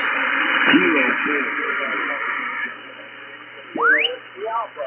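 A radio signal is swamped by a wideband tone from a transmitter tuning up nearby, with warbling whistles and rising squeals over garbled voice fragments.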